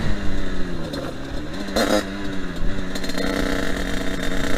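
An old 125cc four-stroke motorcycle engine runs steadily with a droning, slightly rising tone and one brief rev near the middle, ridden supermoto-style over gravel and mud.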